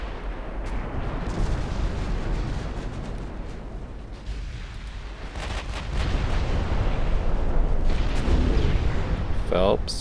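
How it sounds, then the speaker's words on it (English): Battleship secondary guns firing in the naval warfare game Ultimate Admiral Dreadnoughts, a steady rumbling barrage of booms lasting throughout, growing louder toward the end, with a voice speaking over it. "Secondaries on the battleship."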